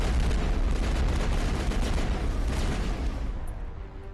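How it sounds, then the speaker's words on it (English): Rapid barrage of missile fire and blasts from the final boss in the Mass Effect video game, a dense, loud rolling rumble of overlapping bursts that continues steadily before easing slightly at the end. "he shoots a shitload of missiles every now and then"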